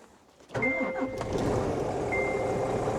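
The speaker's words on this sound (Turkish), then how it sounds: "Marşı çok iyi aldı." A Scania S500 truck engine cranks briefly and catches, then settles into a steady, close rumbling idle.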